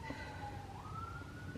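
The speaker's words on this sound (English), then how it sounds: "Sorry for the sirens in the background," A siren wails faintly in the distance, its pitch sliding upward, over a low hum of background noise.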